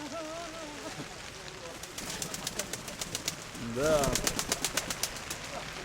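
Pigeons coo in soft, warbling phrases at a fair while people talk nearby, with rapid clicking or flapping sounds in between.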